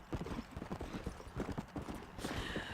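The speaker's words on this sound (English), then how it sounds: "Wait, this horse can throw me off, right?" Horse hooves clip-clop steadily in a video game, a quick, regular rhythm of close, distinct hoofbeats running throughout with a brief whinny-like rise near the end.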